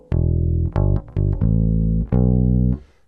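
A deep bass guitar plays a short phrase of low notes in a lilting long-short swing rhythm, alone and clearly.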